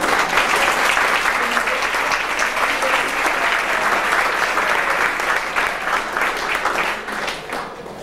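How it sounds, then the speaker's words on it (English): A banquet crowd gives a sustained round of loud, dense applause that tapers slightly at the end. "I think a nice round of applause should go to Vic Favreau and his kitchen crew."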